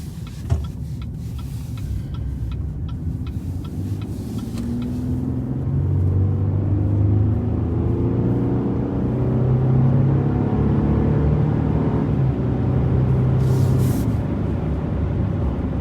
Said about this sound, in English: Getting the throttle a little more than I have been.